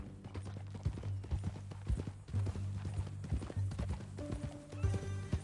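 Horse hooves clip-clop in Red Dead Redemption 2 on PlayStation 5, a steady walking rhythm of close, crisp hoofbeats with a brief whinny near the end.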